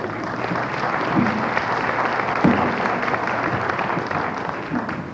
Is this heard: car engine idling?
no